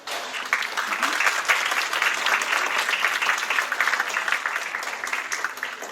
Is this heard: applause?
yes